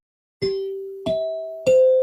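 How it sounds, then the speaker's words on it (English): Three broadcast chimes from the Museum of Broadcast Communication are struck one after another. Each clear, ringing tone steps higher than the last and keeps sustaining as the next note sounds, with no talk. "let me hit these chimes"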